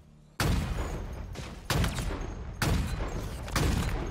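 A shotgun in Halo Infinite fires four heavy, booming blasts, each decaying briefly before the next, spaced roughly a second apart and loud against a quiet background.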